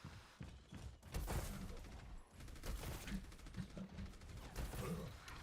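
Rapid gunfire in a video game, a dense run of close, punchy shots and thuds repeating throughout, moderately loud and steady.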